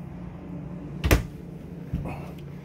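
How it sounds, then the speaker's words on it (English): Soft-close cabinet doors in a 2022 Lance 2465 travel trailer shut with a muted thump, followed by a fainter second knock, over a steady low background hum. "what we all love, the soft closed doors"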